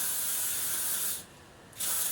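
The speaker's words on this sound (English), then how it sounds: "So really lightly spray" Elnett hairspray misting onto hair in two bursts, a loud close hiss that cuts off for a moment and then starts again.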